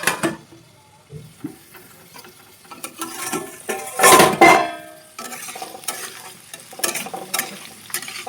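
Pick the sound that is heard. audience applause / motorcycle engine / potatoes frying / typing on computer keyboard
potatoes frying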